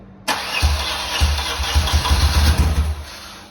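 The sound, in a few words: BMW R80 R motorcycle engine start attempt after years unused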